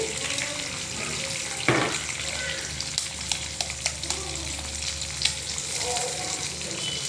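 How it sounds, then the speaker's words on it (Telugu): Eggs fry and are scrambled in a pan for egg biryani: a continuous sizzle runs throughout, broken by a sharp scrape and a series of light spatula taps and clicks against the pan. "ఇది కొంచెము వేగాలి ఇదండి కొంచెం ఇట్లా స్క్రాంబుల్ చేసుకోండి"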